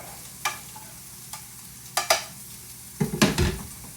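Pancetta cooking in oil in a pan with the heat switched off, giving a soft steady sizzle broken by several sharp stirring scrapes and clinks of a utensil against the pan, with a busier clatter near the end.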